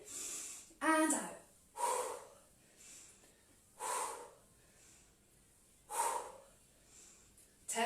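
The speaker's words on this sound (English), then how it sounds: "Breathe in and out." Paced breathing in and out during a lunge pulse workout, with four or five distinct breathy bursts at a steady rhythm, close and fairly loud, alone without talk.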